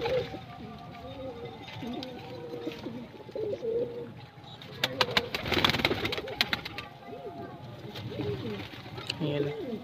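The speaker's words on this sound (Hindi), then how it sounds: "ये देखें कबूतर कितने खुश हो गए," Pigeons drinking water coo softly and repeatedly close by, overlapping murmurs with a few wing flutters and scuffles midway through, while someone talks over them.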